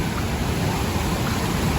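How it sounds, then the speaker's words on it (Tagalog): Constant broadband rush of fast-moving floodwater swollen by monsoon rains, loud and unbroken, with no voices over it. "naririnig na agad natin yung ano ng tubig"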